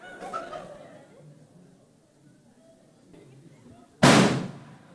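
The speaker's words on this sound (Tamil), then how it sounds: "மிகவும் நீட்டமான ஒரு பட்டாசு கொண்டு வந்தேன்" A long firecracker pops once with a sudden loud burst near the end, after a stretch of quiet background and some murmuring.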